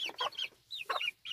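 A small garnizé hen clucks in a quick series of soft, close calls with brief pauses, heard alone.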